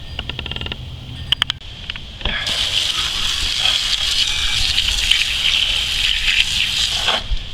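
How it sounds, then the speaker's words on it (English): A hard jet of water sprays onto a lawnmower engine to flush debris from its cooling fins, a loud, steady gushing hiss after a few opening clicks and clatters, with no talking. "You're basically going to be jetting water down in here."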